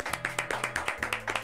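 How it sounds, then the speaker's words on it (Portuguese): A few people clap in a quick, regular rhythm at a political gathering, the sharp close claps repeating about every eighth of a second over a faint background. "salva de palmas pro Valdemar."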